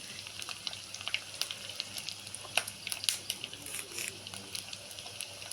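Green chillies fry in a pan of hot oil with garlic and ginger, giving a steady close sizzle with scattered pops and crackles and no voices.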